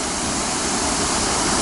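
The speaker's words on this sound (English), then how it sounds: "The water just drops down in there," Steady, loud rushing of Halfmoon Creek water dropping over a small dam near Leadville, Colorado. It forms a dense, continuous roar with no break and no voices.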